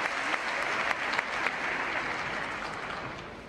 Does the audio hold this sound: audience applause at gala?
yes